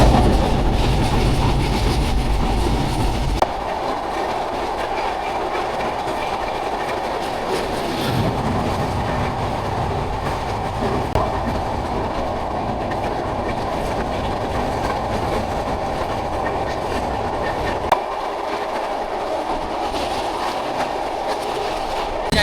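The Madhumati Express runs steadily along the rails, with a continuous rumble and rhythmic clickety-clack of wheels, loud and close, with no talking.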